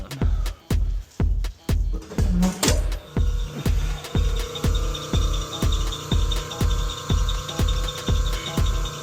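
A hallway air handler's fan motor starts up and runs with a loose, sloppy belt, producing a strong rhythmic throbbing thump about twice per second over a steady mechanical hum, close and loud.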